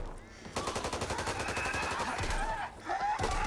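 Rapid automatic gunfire in the zombie shooter Back 4 Blood, with dense bursts of shots in a quick rhythm through most of the stretch, and voices talking underneath.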